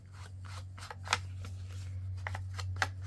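Scissors snip through a sheet of red star-patterned craft paper in a series of sharp, close cuts, spaced irregularly over a steady low hum.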